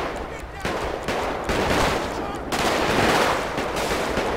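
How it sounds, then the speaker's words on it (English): Heavy gunfire during a bank robbery in Grand Theft Auto, dense rapid bursts and rattling volleys that come in overlapping waves, loud and close, continuing with hardly a pause. "Lots of shots being fired."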